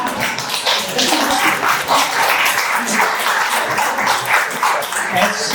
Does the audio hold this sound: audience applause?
yes